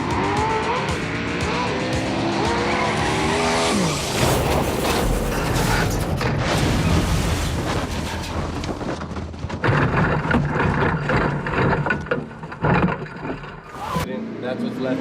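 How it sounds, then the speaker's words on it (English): A race car engine roaring on a dyno inside a racing shop, loud and sustained with revving swells and shifting pitch, briefly dropping and returning near the end, with some voice mixed in. "Sorry about that, it's a dyno going."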